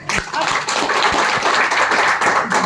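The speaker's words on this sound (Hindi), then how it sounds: "जोरदार ताली होना चाहिए" An audience at a motivational talk claps loudly and vigorously, dense close clapping with a few sharper individual claps standing out, and a voice faintly underneath.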